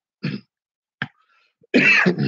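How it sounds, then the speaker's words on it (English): Two short, sharp coughs from a person, the second quicker, followed by a louder burst of throat clearing and rough vocal noise, all close to the mic. "As I coughed to death."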